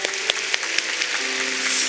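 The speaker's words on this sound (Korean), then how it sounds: "우리 다시 한번 축복의 박수 부탁드립니다." A church congregation clapping during a Sunday morning service, a handful of distinct claps at first, then a soft, even patter as the applause continues, with a steady tone held underneath.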